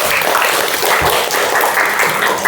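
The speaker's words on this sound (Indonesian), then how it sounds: "Tepuk tangan untuk kita semua." Classroom applause from a group of students, a steady, dense patter of clapping hands that stays loud and even throughout.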